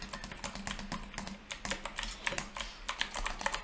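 Rapid, close clacking of typing on a new mechanical keyboard with very loud clicky switches, irregular bursts of sharp keystrokes with no talking.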